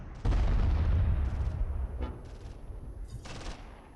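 Mortar fire in the WWII strategy game Close Combat III at the Second Battle of Kharkov: a heavy, deep boom that rumbles and decays, followed by scattered smaller distant pops and shots.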